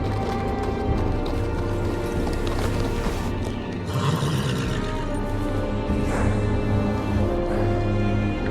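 Video-game horse hooves clop steadily at a brisk pace over a low rumbling backdrop, with a brief whinny-like snort midway.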